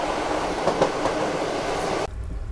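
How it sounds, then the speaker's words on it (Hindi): A freight train rumbles past at close range on an Indian rail line near Itarsi, with steady clattering wheels and a broad roar that cuts off abruptly near the end. "ये मालगाड़ी आ गई"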